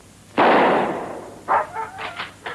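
A single loud rifle shot from a 1970 French thriller film, a sharp burst that decays over about a second, followed by a few quieter scraping or clattering noises.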